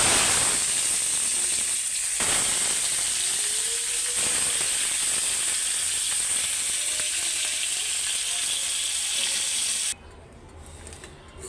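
Spiced kalibaus fish frying in oil gives a loud, steady sizzle that runs close and alone for about ten seconds, with a few faint clinks, before cutting off abruptly near the end.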